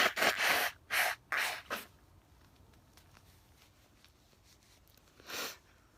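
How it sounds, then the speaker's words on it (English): Someone blowing their nose into a tissue in several forceful bursts, then a short pause and one final blow, close and fairly loud. "Let me just blow my nose now."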